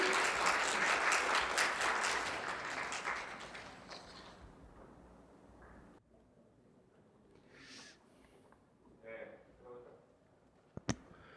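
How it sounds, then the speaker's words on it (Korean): Applause from a lecture audience welcoming a professor, dense clapping for about four seconds that thins out and stops, followed by quiet room noise, faint movement and a sharp click. "여러분 큰 박수로 김성한 교수님을 맞이해 주시기 바랍니다"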